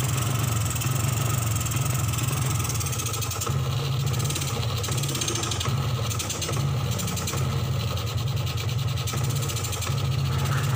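A Suzuki Smash 110 motorcycle engine idles roughly and steadily, a low uneven chugging with a faint rattle, never rising into a rev; it sputters and won't respond to the throttle, as if out of fuel.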